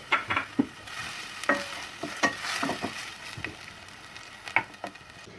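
Chopped onions with salt cooking in a pan for a green lentil and bulgur pilaf, a steady close sizzle with intermittent scraping and stirring clicks of a utensil, no talking.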